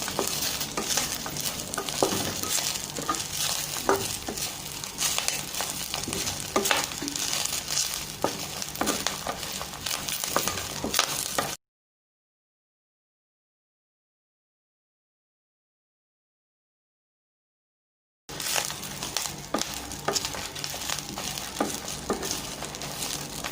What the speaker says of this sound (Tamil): அதில் நல்லா கொஞ்சம் நேரம் அதை நல்லா வதக்கணும்